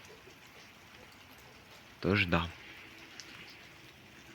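Steady rain falls during a nighttime thunderstorm, a soft continuous hiss with scattered drops throughout, while a voice speaks briefly in the middle.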